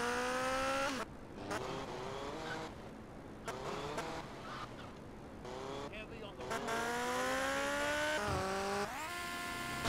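A new motorcycle in GTA Vice City, its engine revving and whining through gear changes with rising and falling pitch. The engine runs loud and close throughout, with tire noise along with it.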